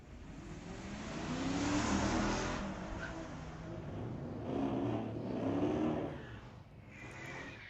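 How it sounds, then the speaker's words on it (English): Two Chevrolet Camaros, one older and one newer, launch and accelerate side by side in a drag race at Mission Raceway Park, engines swelling and surging in two waves, heard from a distance at moderate volume. "Well, a pair of Camaros."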